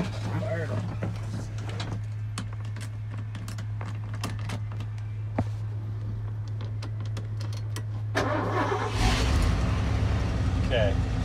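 A 1990 Ford Super Duty flatbed with a dump bed and manual transmission has its engine turned over. A steady low hum with scattered clicks gives way to a louder, broader roar near the end, while people talk over it.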